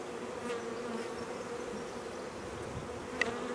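Honey bees hum around a hive while their queen is being marked, a dense, continuous close buzz with a few louder individual passes and one sharp little tick near the end.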